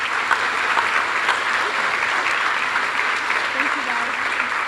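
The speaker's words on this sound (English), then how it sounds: "And if we could just give all of these recipients a round of applause." Audience applause at a scholarship night ceremony honoring award recipients, a dense steady wash of many hands clapping throughout, fairly loud and continuous with no pauses.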